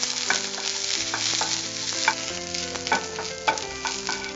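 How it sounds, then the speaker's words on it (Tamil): Small onions and garlic frying in about half a teaspoon of oil in a pan, a steady crackling sizzle with frequent stirring scrapes and clinks, close and moderately loud, no talking. "இப்பவே பாத்தீங்கன்னா அது சட சடன கொஞ்சம் சவுண்ட் வருது."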